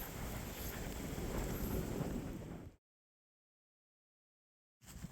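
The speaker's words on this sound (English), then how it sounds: "found the wind again" Wind rushes through a mountain valley on a ridge trail in Byeonsanbando National Park. It is a loud, buffeting roar against the microphone, cuts to silence for about two seconds, then returns.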